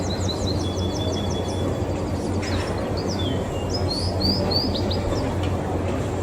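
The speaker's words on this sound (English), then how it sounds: "there's a wee bird singing." A small bird, maybe a warbler or greenfinch, sings repeated high chirps and short trills near a hotel coffee bar in Funchal, Madeira, over a steady low background rumble.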